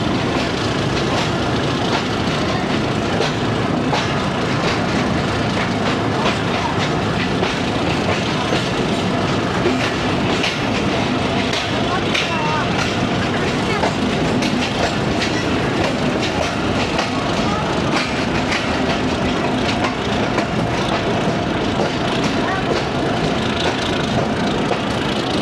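The 228DN shuttle train runs on a rural branch line after leaving Gurmani, bound from Multan Cantt toward Kot Addu Junction. Its carriages clatter and rumble loudly and without a break for the whole stretch, with occasional faint squeals.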